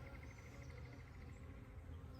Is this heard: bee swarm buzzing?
yes